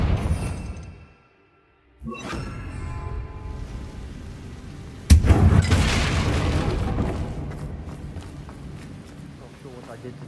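A Confringo blasting spell goes off in a wizarding video game: after a brief silence, a sudden loud boom bursts out and trails into a long rumbling roar, with a voice speaking around it.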